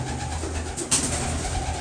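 A soft, low pigeon coo rumbles over faint background noise, with a brief brighter sound midway.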